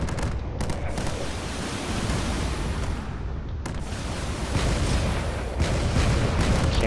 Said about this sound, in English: Cannons are still firing